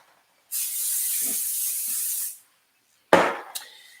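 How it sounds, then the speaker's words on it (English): A single long burst of fine mist spraying from a pixie spray bottle, close and steady for about two seconds, followed by a brief clatter. "I'm going to give it a light mist with my pixie spray."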